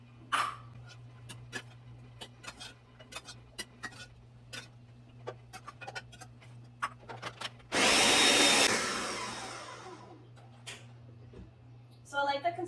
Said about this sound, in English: So now that our tomatoes and chiles came to a boil, we're going to add this into our blender